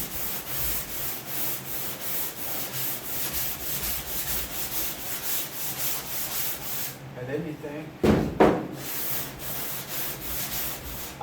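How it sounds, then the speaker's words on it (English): Sanding on a car hood during bodywork: steady, rhythmic rubbing strokes continue loud and close throughout, with a brief pause and a short spoken phrase near the end. "You sand and sand and sand and sand."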